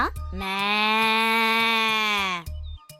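A single long, drawn-out mooing call from a human voice imitating a cow, steady and harmonic for about two seconds, with short noises before and after.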